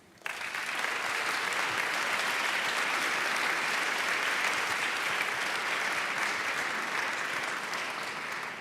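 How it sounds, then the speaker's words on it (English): A large audience at the European Charlemagne Youth Prize 2023 ceremony in Aachen gives a sustained round of applause for the national winners, starting abruptly and holding a dense, even roar of clapping throughout. "we can have a first round of applause for all of our national winners"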